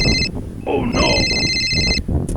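A telephone in a comedy sketch rings with a loud, repeated electronic trill in two long bursts separated by a short pause, with a voice speaking briefly in the gap.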